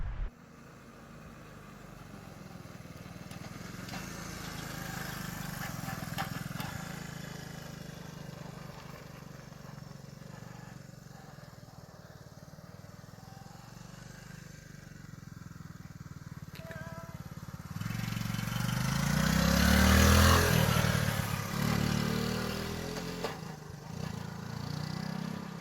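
A 1975 ST 90 motorcycle engine hums at a distance, then grows louder as it passes close by, rumbling for a few seconds before fading.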